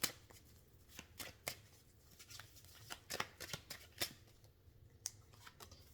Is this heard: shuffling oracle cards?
yes